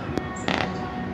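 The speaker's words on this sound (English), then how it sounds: "Look at those gorgeous fireworks." Fireworks burst over Puerto Vallarta, Mexico, a few sharp pops and crackles heard from a distance over steady ambient noise.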